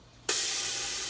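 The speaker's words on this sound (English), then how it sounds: "Ooh, and it's sizzling." Food hits a hot pan with a sudden loud sizzle that holds steady and bright for the remaining second.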